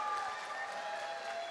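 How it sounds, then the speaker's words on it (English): Applause from an audience at a live brand premiere event, a steady continuous wash of clapping at moderate distance throughout. "Can we get a round of applause again for that?"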